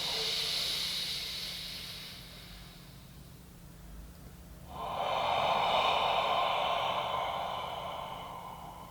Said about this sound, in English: You're gonna breathe in as much as you can and focus on breathing into your upper back.